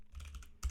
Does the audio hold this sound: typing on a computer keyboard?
yes